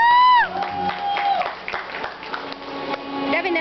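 Audience at a birthday performance in a shopping centre bursts into applause to welcome a performer, clapping and scattered shouts mixed with nearby voices after a brief loud tone at the start.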